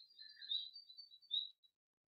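Birds chirp outdoors in a quiet setting, a string of thin high tweets over about a second and a half before fading to silence.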